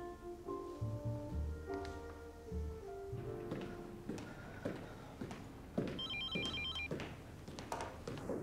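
A telephone bell rings in repeated bursts with music behind it, in a Russian TV melodrama scene, until the call is picked up.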